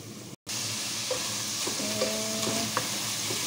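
Milkfish belly fries in a pan with a constant close sizzle, broken by a brief silent gap near the start, with faint clinks as it is moved around.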